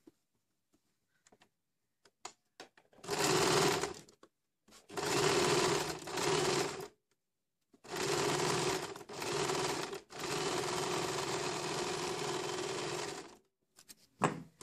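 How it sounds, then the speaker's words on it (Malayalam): Sewing machine top-stitching a churidar pant, running in several steady whirring bursts of a few seconds each with short pauses and small clicks between, close and alone. "ഇതിന് ഒരു ടോപ്പ് സ്റ്റിച്ച് ഇട്ടേക്കാനായിട്ട് ഇത്തിരി ഫിനിഷിങ് വേണ്ടിയിട്ട്"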